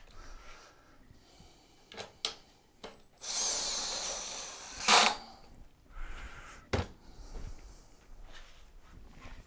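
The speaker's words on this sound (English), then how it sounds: "put some screws in the battery pack for him." A power driver sends screws into the battery pack of a Pride Mobility Go-Go Ultra X scooter, with one loud buzzing burst of about two seconds. Scattered handling clicks and knocks come before and after it.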